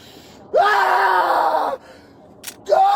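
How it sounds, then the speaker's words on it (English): A man screams manically in the back of a police car: two loud, drawn-out yells close by, separated by a brief pause. "he goes on his side and starts screaming manically"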